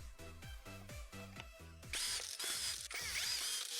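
A ratcheting power driver fastens screws during lithium battery pack assembly, its rapid clicking heard close at first, then a brighter whirring run with repeated pawl clicks.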